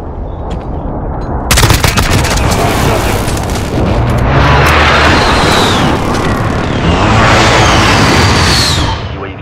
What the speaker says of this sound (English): Airstrike on the wing.